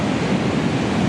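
Ocean waves on a beach in the Sunset District of San Francisco, a loud, continuous roar of surf mixed with wind rumble, with no talking.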